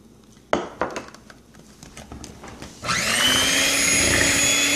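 An electric mixer starts partway through, a steady loud motor whine mixing banana bread batter with Nutella and roasted bananas. Bowl clinks and clatter come first, then the motor runs continuously, close by.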